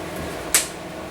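A plastic seal pressed onto a Quick Chef Pro container in a home kitchen gives a single brief, sharp snap midway through an otherwise quiet moment.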